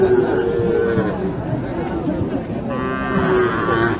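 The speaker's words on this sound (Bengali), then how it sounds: "এটা তো দেশি গরু, তাই না?" A cow lows loudly and close by at an open-air livestock market, its drawn-out moo repeating against a busy background of people talking.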